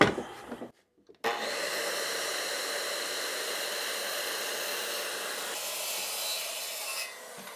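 A power saw runs a long, continuous cut through a panel along a marked line for a battery box build, its steady whining rasp starting after a brief pause and holding at even loudness to the end.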